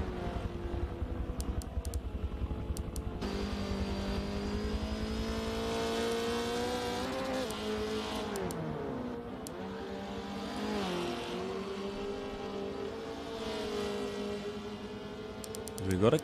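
A race car circuit in the Fast 4s series, with MX-5s competing: a steady, tonal engine drone that rises and dips with gear changes and throttle, moderately close and continuous, with commentary voices underneath.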